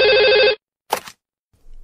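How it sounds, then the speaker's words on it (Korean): A telephone bell rings in a short warbling burst, then a brief knock or click follows in an otherwise quiet scene with no talk. "전화벨이 울렸다."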